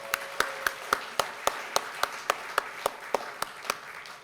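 Slow, evenly spaced single claps, about three per second, sound close and crisp at a community Lunar New Year celebration, with no dense crowd applause around them.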